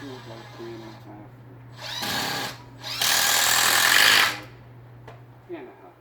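A power drill drives screws into deck railing balusters in two short bursts, the second longer and louder, close by, with quiet talk and a low steady hum around them.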